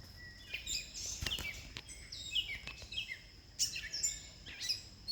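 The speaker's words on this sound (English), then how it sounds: "Bird. Oh." A small wild bird chirping during a nature walk outdoors, with repeated short, high tweets in quick bursts, some louder and nearer than others, against a quiet background.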